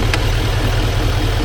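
Steady low rumble of a 2025 Chevy Silverado 2500HD Z71 with the 6.6 Duramax diesel and Allison transmission, idling close and loud, with a brief faint higher hiss near the start.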